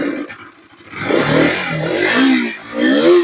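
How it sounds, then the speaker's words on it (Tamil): A used RS 200 motorcycle engine running and revving in a workshop, rising in pitch with uneven bursts of throttle and some mechanical clatter, heard close and fairly loud with no voices. "வண்டி இன்ஜின் நாய்ஸ் எல்லாம் பக்காவாக இருக்குது."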